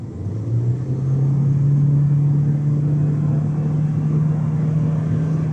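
A Toyota Corolla Altis GR Sport accelerating from about 65 km/h, a smooth engine drone rising steadily in pitch and loudness over several seconds, heard from inside the car with no talking.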